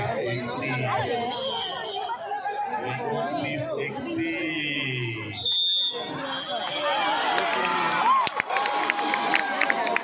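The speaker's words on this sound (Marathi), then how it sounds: "आपण जोरदार टाळ्या वाजवल्या, जोरदार टाळ्यांचा कडकडाट" A crowd at a tie-breaker final match between Yuva Paltan and Bharat Petroleum cheers and shouts in a noisy, continuous roar, with a commentator's voice carrying over the excited din.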